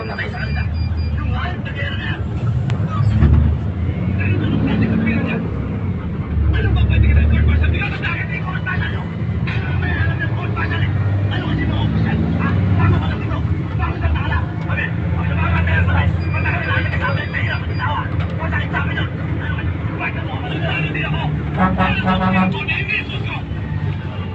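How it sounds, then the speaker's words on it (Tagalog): Steady engine rumble and road noise fill the cabin of a moving passenger bus, with continuous conversation and background chatter running over the droning hum throughout. "dito po ako sa bus."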